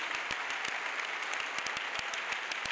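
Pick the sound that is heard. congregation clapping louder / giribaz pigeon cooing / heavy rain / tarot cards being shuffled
congregation clapping louder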